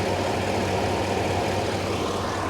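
Mercedes SL600 V12 twin-turbo engine idles steadily with the hood open, a low, even rumble under a broad hiss, heard up close without any voices.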